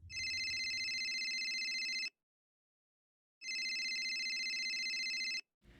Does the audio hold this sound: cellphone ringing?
yes